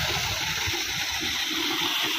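A new tubewell pours water at full pressure in a steady, loud, hissing gush that does not let up.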